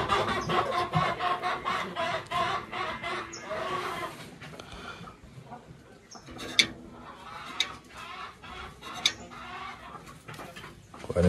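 Chickens weighed on a cattle scale at a Brazilian farm cluck and squawk in repeated bursts, busy at first and then sparser, with a few sharp clicks mixed in.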